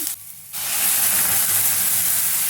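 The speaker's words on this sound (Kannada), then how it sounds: "ನಂತರ ಈರುಳ್ಳಿ ಹಾಕಿ ಚೆನ್ನಾಗಿ ಎಣ್ಣೆಯಲ್ಲಿ ಹುರ್ಕೊ ಹುರ್ಕೊಳ್ತಿದ್ದೀನಿ" Onions frying in oil in a pan break into a loud, close, continuous sizzle after a short quiet start, holding a steady hiss to the end.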